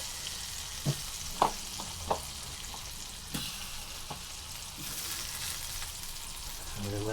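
Roast apples go into the hot juices of a roasting pan beside roast pork, giving a soft steady sizzle with a few light clunks and knocks as they are set down, with no talking.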